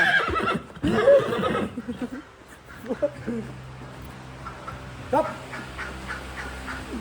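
A horse whinnies near the start amid other animal calls, with people talking nearby and farmyard sounds in the background.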